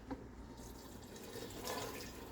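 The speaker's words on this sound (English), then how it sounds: "I'm going to go ahead and now add in our lobster stock." Lobster stock poured into a pot on the stove, a steady liquid splash and pour that swells near the end, close and moderately loud.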